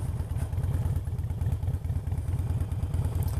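A motorcycle on a Prewitt Ridge trail rides downhill, its engine thumping in a steady, pulsing low rumble, close and loud throughout, with no talking.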